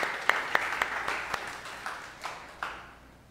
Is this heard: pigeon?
no